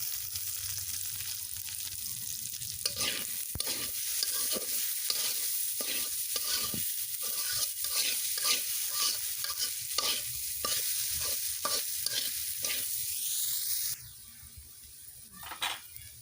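Small mixed fish frying with mixed leafy greens and coriander in a pan, a soft steady sizzle broken by repeated rhythmic scrapes of stirring. Near the end the sizzle drops sharply and a few scattered clinks follow.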